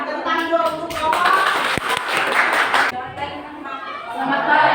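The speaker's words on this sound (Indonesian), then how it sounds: "kita bakal tepuk tangan dulu untuk Bapak" Audience applause for a presenter at a teachers' training event, a burst of clapping hands filling the room for a few seconds before tapering off, with chatter and voices mixed in.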